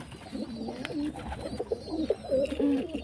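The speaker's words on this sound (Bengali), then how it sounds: "এখানে একটা পায়রা, ফ্যাঁসা পায়রা, ডিম নিয়ে বসে আছে, দেখতে পাচ্ছ।" A pigeon of the fantail kind coos softly while sitting on its eggs, a series of low, rounded calls repeating close by through the whole stretch, with no one speaking.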